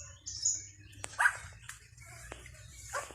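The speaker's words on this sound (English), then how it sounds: "And of course, some more dogs." Dogs on a farm, including a Pomeranian, give a few scattered short barks and yips at moderate distance, with a bird chirping faintly in the background.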